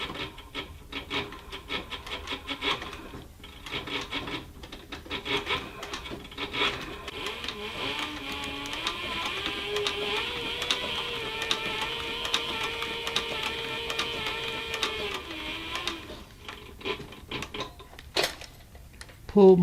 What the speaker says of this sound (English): The servo motor, you can sew at your own chosen speed.